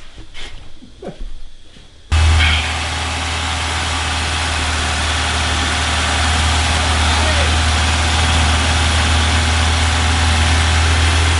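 A car engine filled with expanding foam starts up after a few seconds of rustling and speech, then idles steadily with a loud, low rumbling drone.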